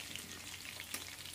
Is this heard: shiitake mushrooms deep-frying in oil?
yes